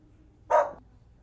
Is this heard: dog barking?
yes